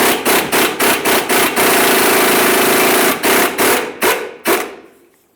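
Impact wrench on a 24mm socket removing the lower ball joint mounting nut on a 1999-2006 Chevrolet Silverado front lower control arm, loud rapid hammering bursts in a quick series, a sustained run, then several short pulses trailing off.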